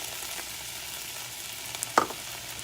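Diced purple onions fry in a skillet with a steady close sizzle, broken near the end by a sharp scrape or clack of a utensil.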